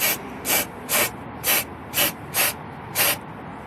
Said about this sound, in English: Spray like 10 or 15 times.